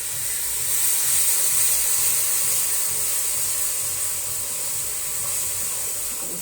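Garlic-ginger paste sizzles in onions fried until red in a pan for fish biryani, giving a steady, close, bright hiss that holds evenly throughout with no voices.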